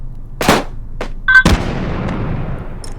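Gunfire in the VR shooter H3VR: a few sharp, loud shots cracking close by, one after another with short gaps, the last leaving a long, decaying echo.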